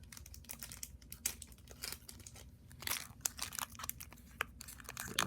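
A Yu-Gi-Oh 2019 Gold Sarcophagus mega pack wrapper is crinkled and torn open up close, with repeated crackling rustles and sharp tearing bursts throughout, and no talking.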